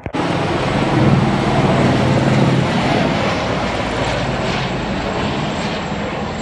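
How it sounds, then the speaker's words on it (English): A loud, steady helicopter roar hangs overhead, droning with little change throughout, with no voices. "Helicopter."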